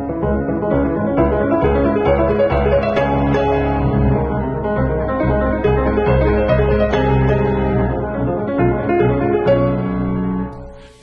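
A solo piano plays a continuous, full-toned passage that swells in a crescendo, with the sustain pedal held so the notes ring and blend together, loud and close for about eleven seconds before fading at the end.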